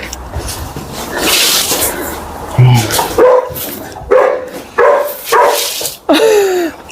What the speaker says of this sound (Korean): 지금 마스크를 끼놓으니까 못 알아보고 짖는다